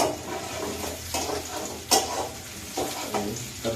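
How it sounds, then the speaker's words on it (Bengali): Eggs frying and being stirred in a pan for a spiced egg bhuna, with a steady sizzle and repeated scraping stirs at a close distance and no talk. "ভাজি হচ্ছে এটা।"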